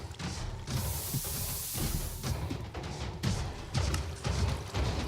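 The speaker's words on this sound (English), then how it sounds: "That is the iron golems dying." Iron golems dying in Minecraft version 1.9 at an iron farm, producing a loud, continuous jumble of heavy thuds, crashes and clanking hits that surge in repeated bursts.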